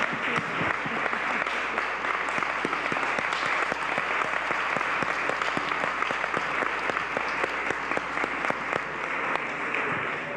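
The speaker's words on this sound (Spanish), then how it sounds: "que quiere un aplauso para él." Sustained audience applause at a journalism award ceremony, dense and steady clapping from a large crowd that fills the room without pause and without any talking over it.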